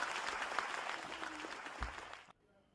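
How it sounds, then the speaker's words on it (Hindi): Audience applause at a Hindi kavi sammelan (poetry gathering) welcoming a poet, a dense steady wash of clapping that cuts off abruptly near the end, leaving near silence. "आप लोग जोरदार तालियां बजा करके उनका स्वागत करें"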